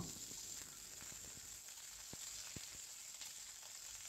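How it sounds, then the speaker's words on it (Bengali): Thinly sliced, unpeeled pointed gourd (potol) frying under a lid gives a faint, steady hiss with a few soft pops and crackles, quiet and continuous, with no talking. "পটলগুলো দিয়ে দেওয়ার পরে আমি মিনিট কয়েক ধরে ভেজে নেব।"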